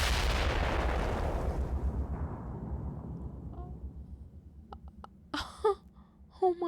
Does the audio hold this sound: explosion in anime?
yes